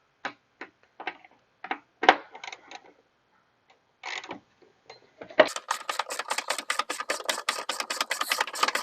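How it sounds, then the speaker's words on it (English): A ratchet on a 13-inch extension clicks away at a battery hold-down bolt on a Chevy Trailblazer, starting in scattered short bursts and then settling into a fast, even run of clicks. "I have a 13-inch extension here on a ratchet, so we can get down in there and get to it"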